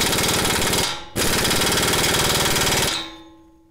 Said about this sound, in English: today let's just try an impact for a while and see if it starts to move